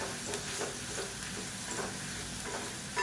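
Coriander leaves sautéing in a pan for chutney, a steady broadband sizzle with faint stirring scrapes running evenly throughout, fairly quiet and with no talk.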